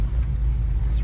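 Steady close-up idle of a 1991 Jeep Grand Wagoneer, a deep even engine rumble with faint background noise and no clear talk.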